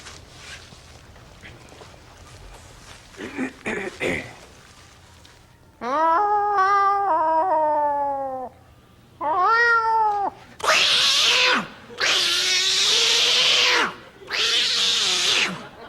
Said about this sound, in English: Get out of here, you lousy cats!